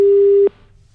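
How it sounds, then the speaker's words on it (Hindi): A phone disconnect tone after a hang-up: a single loud, steady electronic beep lasting about half a second, then cutting off to faint background hiss. "वो सीधे तौर पर फोन कट कर देते हैं"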